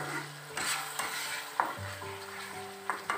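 Chicken masala stirred as it fries in a pan, a steady sizzle broken by several distinct spoon scrapes and knocks against the metal, close and clear with no talking.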